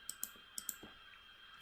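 A computer mouse clicks sharply a handful of times while navigating an Excel worksheet, quiet isolated clicks in an irregular rhythm with a faint background hum.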